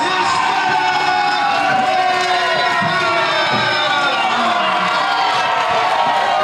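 A wrestling crowd at an ICW tag team championship match cheers and whoops for the Hispanic Mechanics, a continuous roar of shouting and scattered clapping while a ring announcer talks over it.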